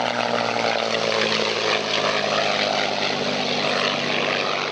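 Propeller-driven fighter prototype with a Rolls-Royce Goshawk engine roaring steadily overhead, a loud continuous drone with no voices.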